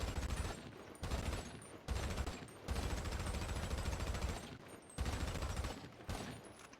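Automatic assault-weapon or SMG fire in GTA V: several loud rapid-fire bursts, each about a second or two long, broken by short silent pauses.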